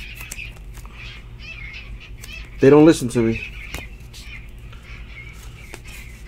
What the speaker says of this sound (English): Shut the fuck up, birds!